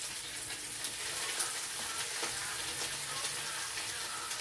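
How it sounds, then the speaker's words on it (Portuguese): Sardines fry over a wood fire, giving a steady bright sizzle and crackle with a few soft pops, close and continuous. "Fritando uma sardinha para comer."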